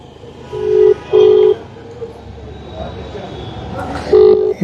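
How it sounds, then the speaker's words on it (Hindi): Keypad tones from a phone being dialed, three short beeps spaced out, the last coming after a pause, heard faintly over steady outdoor background noise. "फ़ोन मिला रहा है उनको"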